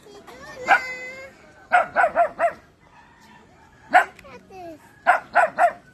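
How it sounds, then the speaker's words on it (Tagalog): Several dogs bark in repeated bursts of two to four sharp yaps, with pauses between, near and loud on a walk to a farm. "May maraming aso."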